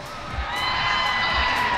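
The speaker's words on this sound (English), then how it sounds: "Hearing the crowd IRL is so surreal." Live crowd at a Las Vegas gaming event cheering and whooping, a dense, sustained roar of many voices that swells slightly and stays loud throughout.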